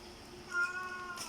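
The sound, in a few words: cat meowing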